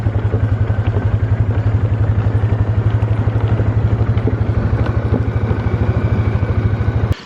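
A four-wheeler ATV engine idles close and loud in a fast, even putter with a rattly edge, then cuts off abruptly near the end.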